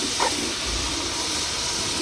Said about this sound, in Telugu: ఇదిగో వాటర్ కూడా పోసేస్తున్నాను